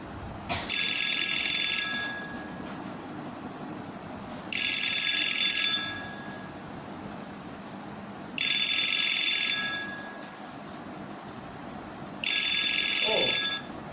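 A normal landline telephone rings in four evenly spaced bursts, each about two seconds of bright trilling bell tone with pauses between, fairly loud over a low background hum.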